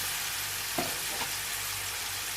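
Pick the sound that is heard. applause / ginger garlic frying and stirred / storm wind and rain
ginger garlic frying and stirred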